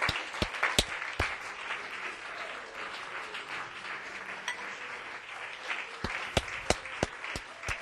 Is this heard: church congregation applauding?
yes